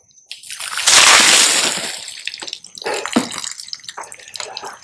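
Water splashes as a body dunks into a river: a loud surging splash, then a run of smaller sloshes and drips.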